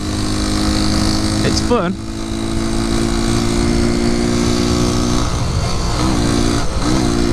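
A 1973 Honda C90 motorcycle ridden at close range, its small engine droning steadily, with gear shifts and rising revs heard as pitch sweeps, while a rider talks briefly over the engine and wind.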